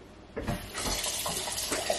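Tap water runs into a vessel being filled for boiling, a steady splashing flow that grows louder after the first half second and continues alone without any talking.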